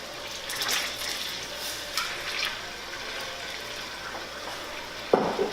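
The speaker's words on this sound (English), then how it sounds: "And as we hear that bubbling" Steady bubbling and gurgling of water in a cooking pot, fairly faint and continuous, with a sharper clink near the end.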